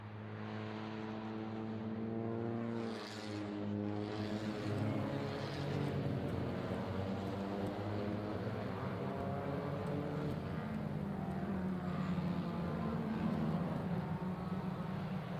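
Swift Cup race cars on the formation lap at the 4.2 km Salzburgring circuit in Austria, a steady droning chorus of engines humming together at moderate distance, held without a break and with no talk over it.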